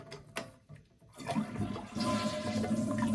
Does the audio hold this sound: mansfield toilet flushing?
yes